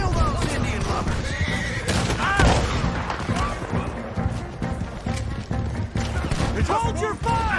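Horse whinnies cut through a chaotic Red Dead Redemption 2 gunfight, with rifle shots, shouting voices and clattering action layered densely throughout.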